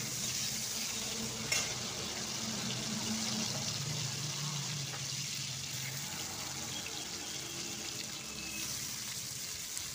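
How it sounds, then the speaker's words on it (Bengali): Chopped tomato frying in mustard oil with five-spice tempering in a wok, a continuous soft sizzle with occasional scraping stirs and a brief clink near the start. "কড়াইতে সর্ষে তেল দিয়ে 5 ফোড়ন দিয়ে টমেটো কুচি দিয়েছি।"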